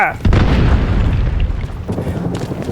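A loud boom from a grenade explosion in the video game Delta Force: Black Hawk Down, followed by rumbling debris and game noise.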